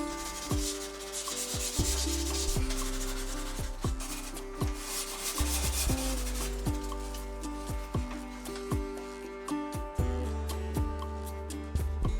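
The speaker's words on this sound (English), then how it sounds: "I sanded between each coat" Continuous rasping of sandpaper rubbing on painted wooden kitchen cabinets, close and steady with rhythmic back-and-forth strokes, over faint background music.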